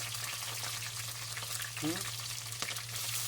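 Garlic and green chillies frying in hot oil with cumin and fennel seeds, a steady crackling sizzle that runs throughout, with a brief clatter partway through.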